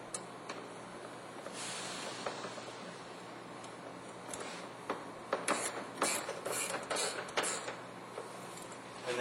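Ratchet snugging 10mm bolts on a 2005 Ford Expedition light assembly, turned clockwise by hand; faint clicking and rubbing under a steady background hiss, with short bursts of sharper clicks toward the end.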